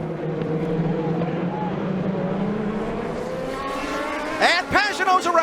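An IndyCar race car in a 2018 race at Indianapolis squeezes into a corner, its engine note droning then rising sharply as it passes close, with a race commentator talking over the roar.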